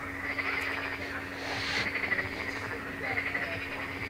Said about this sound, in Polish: W tle naprawdę ogromny koncert żab, czy ropuch.